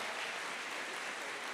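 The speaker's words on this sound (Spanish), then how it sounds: "Fuerte las palmas para Camila" An audience at a university talk event applauds for Camila, a dense, steady wash of clapping from many hands that fills the whole brief moment without a pause.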